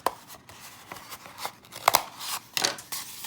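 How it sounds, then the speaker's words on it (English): Scissors cut a cardboard paper towel roll in half down the middle, giving a close series of crisp snips and crunches. "So we're gonna cut this in half"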